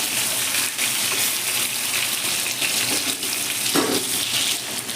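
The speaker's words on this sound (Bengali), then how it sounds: "তেলের মধ্যে বেগুনগুলো দিয়ে আমি ভালো করে একটু নেড়ে দিচ্ছি" Stuffed brinjal hisses steadily in hot oil in a pan, a dense even sizzle with faint scraping as the pieces are stirred, close and continuous without speech.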